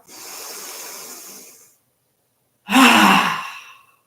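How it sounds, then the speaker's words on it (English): A deep inhale followed by a quicker exhale out through the mouth, close and clear, with a brief pause between the two breaths. "This time we'll release more quickly out the mouth. Deep, deep, deep inhale."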